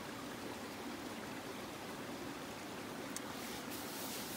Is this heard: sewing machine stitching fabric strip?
no